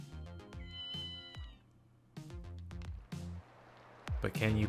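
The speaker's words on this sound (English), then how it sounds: "But can you pet the cat?" Cat meows in the video game Ghost Trick: Phantom Detective, several short game-audio mews in quick succession alongside chiming music, with a final louder burst near the end.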